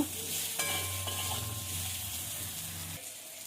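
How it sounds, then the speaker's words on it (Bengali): Potatoes frying with turmeric in a pan alongside onion and garlic, a close, steady sizzle broken by scraping stirs and a soft knock, easing off near the end. "আলুটা একটু ভাজা ভাজা করে নেব।"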